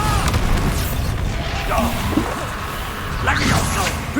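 A Bombarda explosion spell in the video game Hogwarts Legacy, loud booming blasts with whooshing bursts over a constant rumble of combat noise, with a voice speaking among them.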